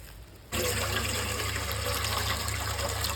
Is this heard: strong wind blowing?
no